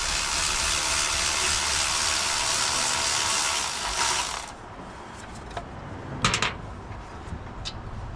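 A ratchet works on the header bolts of a 1966 Ford 250 4x4 engine, a steady dense mechanical clatter for several seconds that then drops away to quieter scattered clicks and small metallic taps.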